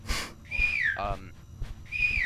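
A few short whistles from a player character in the video game Inside The Backrooms, high and sliding, come in brief bursts with other noises between them.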